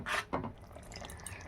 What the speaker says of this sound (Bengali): মিক্সির বাটিটা আমি ভালোভাবে ধুয়ে জলটা এর মধ্যে